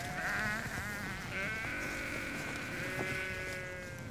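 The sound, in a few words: sheep bleating on a Scottish farm in winter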